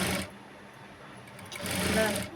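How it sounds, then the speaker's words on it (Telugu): A sewing machine stitching blouse fabric: a close, steady mechanical whirr that eases off briefly and then speeds up again, with someone speaking faintly over it. "క్లాత్ అనేది లాగకుండా స్టిచ్ చేసుకోవాలి"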